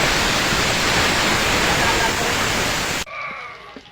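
Chopped onion, garlic and green chilli sizzle in hot oil in a wok, a dense, loud frying hiss that cuts off abruptly near the end.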